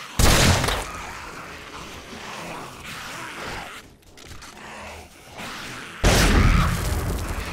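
Gunfire in the zombie survival game 7 Days To Die, Ravenhearst mod: a loud booming shot opens, rumbling texture follows, then a second heavy blast strikes near the end and trails off.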